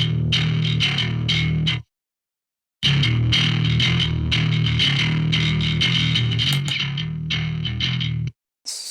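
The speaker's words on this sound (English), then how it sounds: "it's a really good distortion if you guys are looking for something different" A bass guitar played through heavy distortion, gritty and loud, with a sudden silent gap before the riff resumes.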